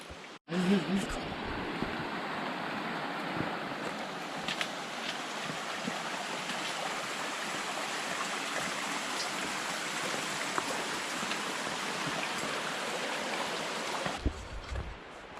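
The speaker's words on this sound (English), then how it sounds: "Sounds like a little rushing waterfall." Steady rushing water roars continuously at moderate volume, a broad even wash of sound with a brief voice at the start.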